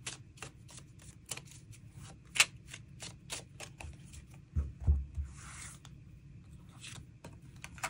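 Tarot cards shuffled by hand, a steady run of quick riffling flicks and soft slaps, close and fairly quiet with a low background hum and no speech.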